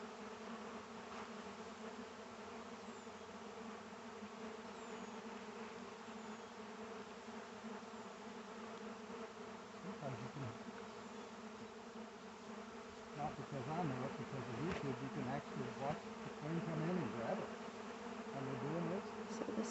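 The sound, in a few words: honeybee swarm buzzing as bees congregate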